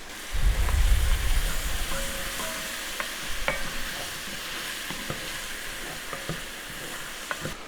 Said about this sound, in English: Right before my onions are fully sauteed, I'm going to go ahead and add in my celery just to help that get a little bit softened up.